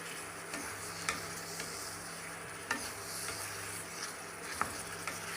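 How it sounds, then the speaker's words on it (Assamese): Potatoes are stirred in a pot of meat curry with the lid off: scraping ticks and clicks of a spoon come at irregular moments over a steady low sizzle, close by with no talking. "এতিয়া ইয়াত আলু দিয়া হৈছে, ঢাকনিটো খুলি লৰাই দিওঁ অলপ।"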